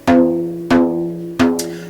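An untuned bodhrán is struck three times at an even pace, close and clear. Each hit rings with a high-pitched, pingy, sustained tone that fades slowly.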